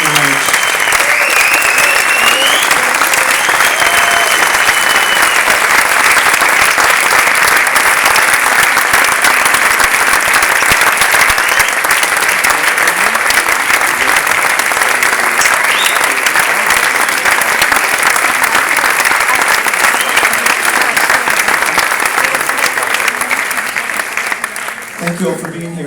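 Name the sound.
audience applause for the film's cast and crew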